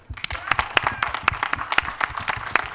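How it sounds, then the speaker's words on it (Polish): A crowd at the official opening of a campus applauds, with sharp, distinct hand claps standing out over a softer wash of clapping in a lively, uneven rhythm. "to Wam należą się brawa i my Wam teraz klaszczemy"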